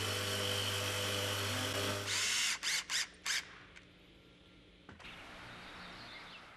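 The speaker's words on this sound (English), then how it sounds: "turn the machine on. It'll heat up a blower, which will in fact heat up the glue and then apply it to the edge of the board" An edge banding machine runs with its hot-air blower heating glue for a board's edge: a loud, steady mechanical whir with a low hum, then several short sharp bursts, then a quieter hiss.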